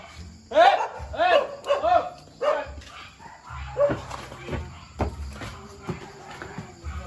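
A dog barks several times in quick succession nearby, loud sharp yips that fade into softer footsteps and rustling, with people talking in the background during a night cobra hunt.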